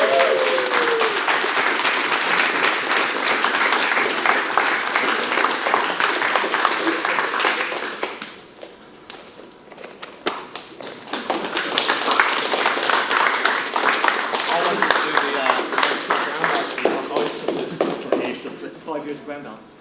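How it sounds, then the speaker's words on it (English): Crowd applause at a Brazilian jiu-jitsu seminar belt promotion, dense clapping for about eight seconds, a brief dip, then another sustained round of applause with talk mixed in before it tapers off. "give them a round of applause"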